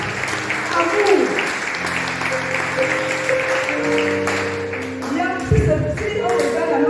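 A church congregation breaks into applause during a French-language sermon, a dense steady clapping that runs throughout alongside ringing tones and a voice speaking.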